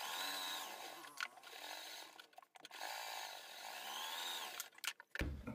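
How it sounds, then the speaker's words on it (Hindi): A sewing machine stitches a hem on a suit neckline, its motor whirring in steady bursts. Short pauses and clicks separate the runs, and the sound is fairly quiet and close. "इसके बाद हम यहाँ पर कन्नी की सिलाई लगा देंगे"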